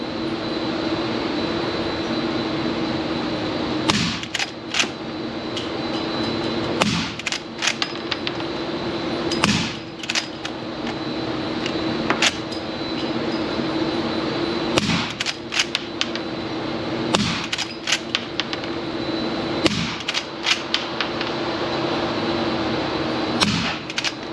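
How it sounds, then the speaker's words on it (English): Suppressed gunshots from a Henry Model X rifle in .45 Long Colt, fired one at a time: sharp, muffled cracks at irregular intervals of a few seconds over a steady background hum. "we're going to load her up again, we're going to shoot her again"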